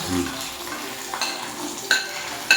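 Small onions sauté in a pan for fish curry, with a soft sizzle broken by a few stirring scrapes and light clinks of a utensil against the pan.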